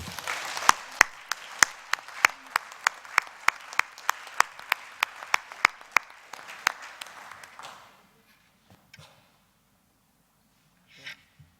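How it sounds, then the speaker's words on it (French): A small group applauds, with scattered, fairly steady claps for about eight seconds, then it fades to near silence with a few faint sounds. "On peut peut-être l'applaudir"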